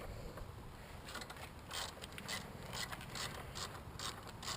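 A ratchet with a 10 mm socket works on the ignition coils of a 2000 Jeep Grand Cherokee engine, rapid close clicking in repeated bursts, fairly quiet, with no talk.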